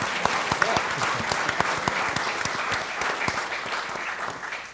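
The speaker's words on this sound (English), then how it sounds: "Yeah, round of applause." Applause from a conference audience at a volunteering event, a steady crowd of many hands clapping with crisp individual claps standing out, sustained and moderately loud with no speech over it.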